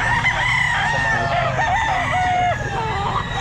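A rooster crows at a pet market, one loud, close call rising and wavering over a few seconds above a busy background of market noise.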